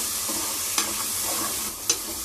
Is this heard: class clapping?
no